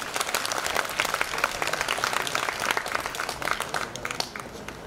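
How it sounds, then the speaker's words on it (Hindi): Loud, sustained applause from an audience at a self-development talk, dense clapping that keeps a steady level throughout with no voices over it. "जोर से ताली"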